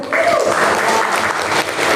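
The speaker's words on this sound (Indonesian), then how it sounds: "Kita tepuk tangan." Teachers gathered at a school socialization event in Batam break into loud, close applause, dense clapping that holds steady for two seconds with voices faintly mixed underneath.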